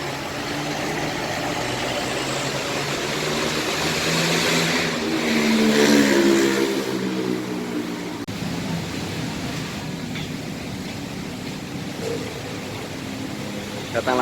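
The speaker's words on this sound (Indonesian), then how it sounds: "Datang juga bus Eka Cepat dari Surabaya" An Eka Cepat bus from Surabaya bound for Cilacap pulls into Tirtonadi bus terminal in Solo on a rainy day, its engine droning and swelling as it nears, then easing into a steady idle, with background voices.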